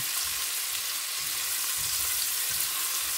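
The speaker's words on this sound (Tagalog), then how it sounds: "ilalagay na natin ang ating pusit. Gigisa lang natin ng mabilisan" Squid sizzles as it is quickly sautéed in a hot pan for adobong pusit. A dense, steady hiss is close and loud throughout, with soft low thumps of stirring underneath.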